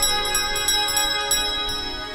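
A small bell from a video game rings with sustained, bright tonal overtones, and several light repeated strikes ring out over a faint soft background.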